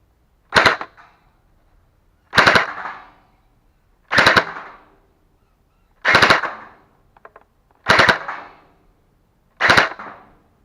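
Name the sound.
Scar V2 gel blaster firing with upgraded 1.3 spring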